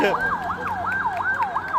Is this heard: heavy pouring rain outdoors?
no